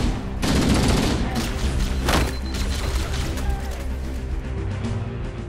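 Rapid bursts of automatic gunfire in the Halo video game during a Legendary-difficulty run, loud and dense at first, then easing into steadier shooting against a busy background of game sound.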